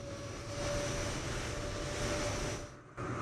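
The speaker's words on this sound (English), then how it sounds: "Man, somebody's got their engine on, and it is annoying me." Airplane engines idle at a gate at LAX in a VATSIM flight simulator session, a steady, droning whine with a fixed tone that holds evenly, then dips briefly near the end before resuming.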